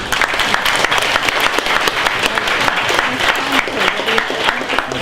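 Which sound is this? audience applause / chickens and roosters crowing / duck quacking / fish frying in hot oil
audience applause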